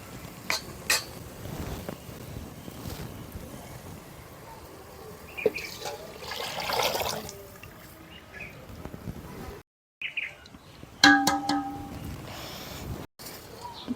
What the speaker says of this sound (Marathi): आता आपण जे आळणी काढलेलं होतं मटणाचं पाणी ते सोडूया याच्यामध्ये